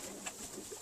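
Pigeons coo softly inside a loft where young birds are kept, a few low throaty calls close by over a quiet background.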